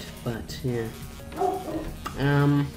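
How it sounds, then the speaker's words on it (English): A dog indoors barks and yips several times in short bursts, close and fairly loud, alternating with someone speaking casually at a home computer. "my dog should really be quiet"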